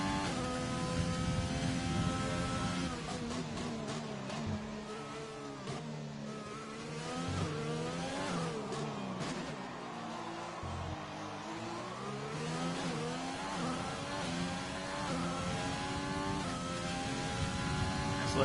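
Formula 1 car engine screaming through a hot lap at Abu Dhabi in a racing video game, a loud, continuous high-revving whine that climbs and drops with gear shifts and braking into corners, steady and close throughout.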